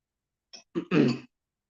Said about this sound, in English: I'm always coughing on the stream, aren't I?